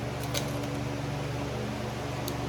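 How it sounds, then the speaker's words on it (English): An electric fan by the door runs steadily up close in a kitchen, giving a constant whirring hum with a low rhythmic flutter and no talking. "It's a fan."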